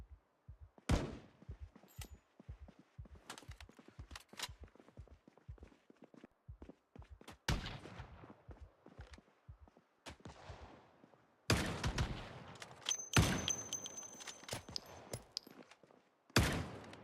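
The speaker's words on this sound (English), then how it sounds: "it's why I'm shooting those automatic guns so fast" Full-auto guns with a fast-fire mod in Project Zomboid: steady footsteps tap underneath, broken by several short, loud bursts of rapid automatic shots near the middle and end.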